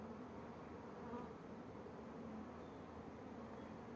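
Honeybees buzz during a gentle beehive inspection, a steady, soft, continuous drone that holds evenly for the whole stretch with no talking.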